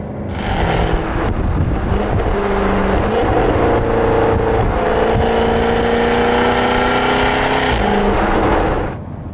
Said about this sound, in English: This being an older car, it also has an exhaust that, quite frankly, is ridiculous.